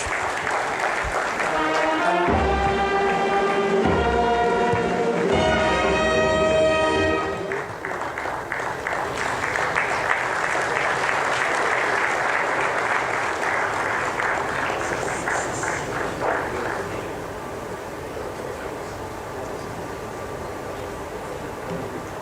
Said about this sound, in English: let's clap like we know what time it is